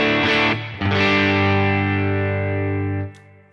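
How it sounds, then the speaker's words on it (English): Electric guitar through an overdrive pedal into an amp: two quick strums, then a thick, distorted chord that rings out for about two seconds before being cut off, played alone. "I like the way this overdrive pedal sounds right now with this amp"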